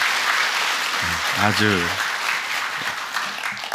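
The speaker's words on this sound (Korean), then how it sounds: "박수 한번 쳐줘요." Church congregation applauding during a Sunday worship service, a broad steady clapping wash with a brief spoken word and voice underneath.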